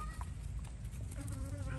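A honeybee buzzes close to a person's finger outdoors, a faint wavering hum that comes and goes over low background rumble.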